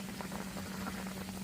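Steady fizzing and bubbling of baking soda and water inside the cells of an old car battery, close and continuous, with a faint hum underneath and no talking.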